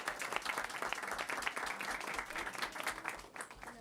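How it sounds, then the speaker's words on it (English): Applause from the audience at a board of education meeting, honouring student ambassadors: dense, sustained clapping from a room of people, moderately quiet and steady, with no speech over it. "can everyone give our ambassadors a huge round of applause here?"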